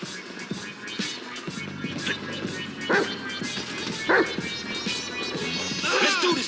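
A dog barking in the video game GTA 5, with several short barks and yips over a steady game background, under scattered voices.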